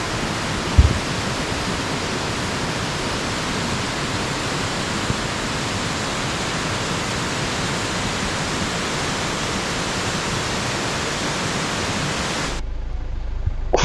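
Guryong Waterfall pours through a rocky gorge, a steady, loud, broadband roar of rushing water that holds constant and close for about twelve seconds before cutting off abruptly.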